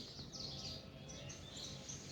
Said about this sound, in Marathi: पक्ष्यांचा बघा किलबिलाट कसा सुरू आहे